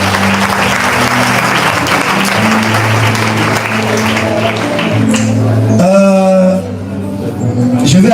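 A church congregation bursts into sustained, loud applause with dense clapping, which fades into a voice speaking over the room near the end.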